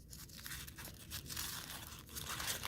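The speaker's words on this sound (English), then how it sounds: "Let's unwrap them." The plastic wrapper of a Play-Doh Shopkins egg is torn and crinkled close by in short, soft bursts of tearing and rustling, quiet and without speech.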